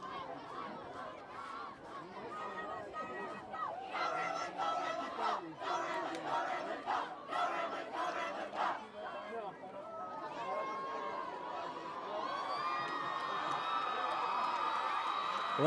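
Lake City high school varsity football crowd cheering and chanting before a kickoff, a loud swelling roar with rhythmic shouts and whoops building toward the end, under an announcer's voice.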